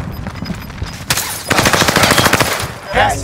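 Rapid automatic gunfire from an AK-47 in Call of Duty Warzone on Rebirth Island, sharp bursts of rattling shots loud and close, with scattered single reports before the main volley.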